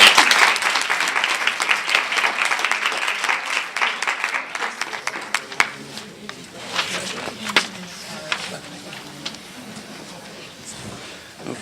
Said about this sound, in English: one more large round of applause for everyone